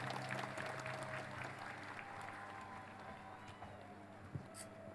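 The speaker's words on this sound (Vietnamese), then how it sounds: "Chúng ta nổ một tràng pháo tay lớn hơn nữa để tri ân Đức Tổng Giám Mục Leopoldo" Faint, distant applause from a large crowd at a youth festival Mass in the Hanoi church province, a steady wash of clapping over a low hum and background noise.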